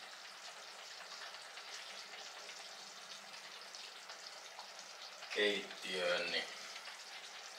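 Food sizzles in a hot cast iron pan while lasagne is prepared, a steady frying hiss throughout, with a brief louder clatter of stirring or handling near the end and a person speaking briefly.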